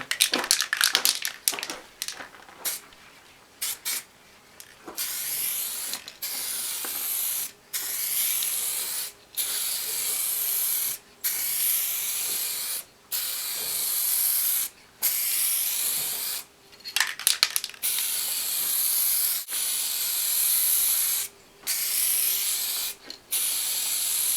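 An aerosol can sprays 1K clear varnish onto a car bonnet in repeated hissing bursts separated by short pauses, loud and close.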